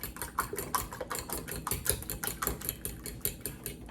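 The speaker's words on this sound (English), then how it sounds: "Finish whisking, make sure the seasoning's all together." Eggs with seasoning whisked briskly in a bowl, a close, quick series of sharp rhythmic taps and clicks of the whisk, about four beats a second, with no voices.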